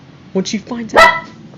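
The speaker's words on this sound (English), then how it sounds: "I apologize for my dogs in the background." Dogs bark a couple of times behind someone talking, one sharp nearby bark standing out mid-sentence.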